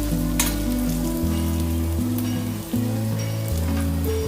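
Dried chili sizzling and frying in a pan of hot oil for an Andhra-style chicken curry, a steady loud crackle with no talking over it.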